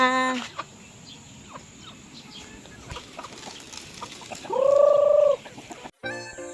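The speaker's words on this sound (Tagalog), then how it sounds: "Ayun ay magpapatuka tayo ng manok." Chickens cluck and murmur softly nearby as they are fed, with a louder drawn-out squawk near the end amid light background noise.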